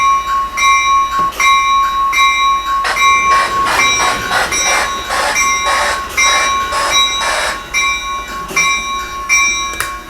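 A model railroad locomotive's bell rings repeatedly in a steady clanging rhythm, loud and close, over a continuous tonal hum, with no talking.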